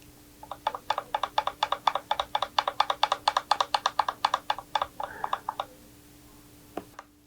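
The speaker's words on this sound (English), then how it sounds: "I get that clicking sound." A fret rocker tool angled on guitar frets clicks rapidly and evenly, about twenty-five sharp ticks over several seconds, close up and quiet, then a pause and one last click.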